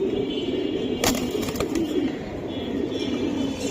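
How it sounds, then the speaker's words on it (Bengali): A female Giribaz pigeon held in the hand coos low and steadily, with a brief burst of wing fluttering partway through. "এই দেখেন মাদিটা ছটফটের বেশি করে নরের তুলনায়"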